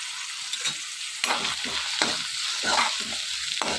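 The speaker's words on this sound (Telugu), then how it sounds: "పాలకూర తోటకూర కట్ చేసుకుని క్లీన్ చేసుకుని శుభ్రంగా ఫ్రై చేసుకోవాలి" Spinach and amaranth greens frying in a pan, with a steady sizzle and repeated scraping stirs coming in bursts, close and fairly loud, no voices.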